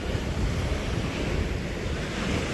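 Ocean waves wash against the cliffs at Puerto Nuevo, Baja California, a continuous loud roar of surf mixed with gusting wind buffeting the microphone.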